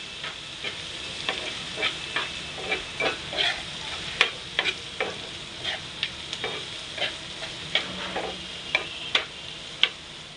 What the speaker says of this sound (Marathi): मसाला मालवणी चवीनुसार मीठ सगळं व्यवस्थित मिक्स करून घ्यायचं आपल्याला